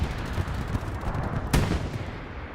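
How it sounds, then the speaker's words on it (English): Gunfire and an explosion in the World War II shooter Hell Let Loose: a dense, continuous rattle of distant weapons fire with a sharp, louder blast partway through. "Explosion happens to our bottom right."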